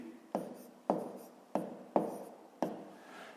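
Pen strokes writing out a math solution for a fifth-grade division exercise: five distinct taps or short scratches at a steady, unhurried rhythm, close and fairly quiet, with no talking over them.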